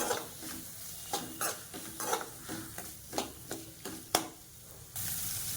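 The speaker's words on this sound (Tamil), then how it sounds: "இப்போ இது எல்லாத்தையும் சேர்த்து வதக்கிக்கணும்." Onions for an egg gravy sizzle softly in a pan while a spoon stirs and scrapes at irregular intervals, close by, ending in a louder steady sizzle.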